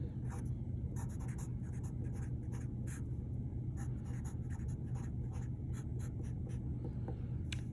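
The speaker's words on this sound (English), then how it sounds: "You're literally just going to write a 13 right there." Pen or pencil writing numbers on a paper worksheet, with a quick run of scratchy strokes and taps in bursts over a steady low background hum, close and fairly quiet.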